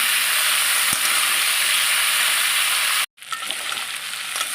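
Mung dal and vegetables stir-fried together, a loud dense sizzling hiss filling the clip, briefly cut off for a moment before resuming with soft scraping underneath, close and unbroken by speech.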